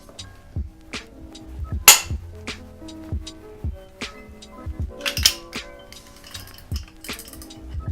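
Metal tools clink and tap sharply in an irregular series while a T55 Torx bolt is worked out of a Volvo S60R cam cap, the close, bright ticks standing out with no talk.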